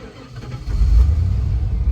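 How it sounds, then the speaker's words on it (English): The engine of a 1995 truck, just treated with Seafoam, runs with a low idle rumble that surges into a loud, throaty rev partway through and stays close and strong. "we're gonna go for a 10-minute drive, hitting the accelerator in a very spirited manner"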